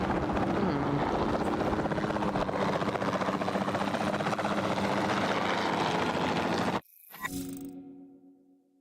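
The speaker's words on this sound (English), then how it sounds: "the sensible thing is to take a capture team helicopter" A capture team helicopter in a dinosaur video game makes a loud, steady rotor thrum for several seconds, then cuts off abruptly, leaving a short fading tail.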